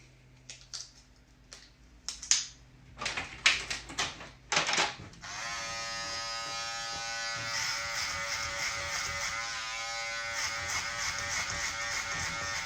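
Electric hair clippers fitted with a number 2 guard cut hair during a men's haircut, starting after a few light clicks and handling taps, then a steady close buzz that runs unbroken to the end.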